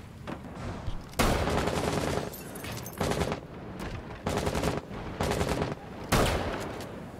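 Gunshots in the tactical shooter Rainbow Six Siege: about six loud separate blasts spaced irregularly a second or so apart, each with a short ringing tail, close by with no talking.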